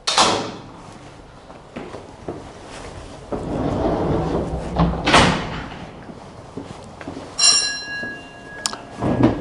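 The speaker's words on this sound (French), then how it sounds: "on a entendu la sonnette de la station inférieure" A bright electric bell at a funicular's lower station rings near the end with a sustained high tone, after clanking and sliding sounds of doors and machinery in a large echoing space.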